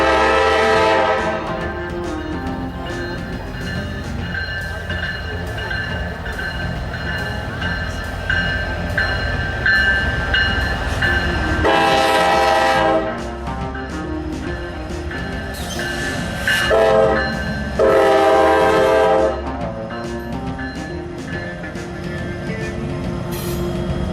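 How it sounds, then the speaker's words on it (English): An eastbound autorack freight train rumbles steadily past at close range, its horn sounding in several loud blasts over the continuous rolling noise of the cars. "we saw an eastbound Autorack train come"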